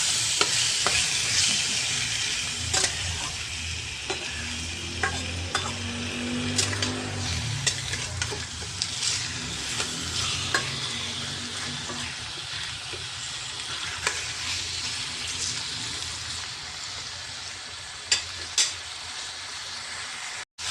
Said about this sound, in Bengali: দেখো, আমার কিছুটা চিকেন ভাজা ভাজা হয়ে গিয়েছে